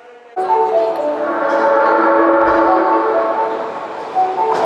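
An Osaka Metro Midosuji Line subway train on a pre-war underground line in Osaka gives a loud, steady tonal whine and rumble that holds for several seconds and eases slightly near the end, with no voices.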